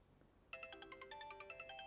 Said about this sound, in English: Oh, Jared's ringing me.